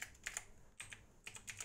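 Computer keyboard typing in short bursts of several keystrokes each, close and fairly soft, with brief pauses between bursts and no talking.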